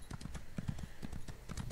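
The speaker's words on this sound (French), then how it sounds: "j'ai mon petit cheval qui est pas très très rapide" Hoofbeats of a slow, cheap horse mount in The Elder Scrolls Online, a steady clip-clop rhythm of repeated hoof strikes at close range with no voices.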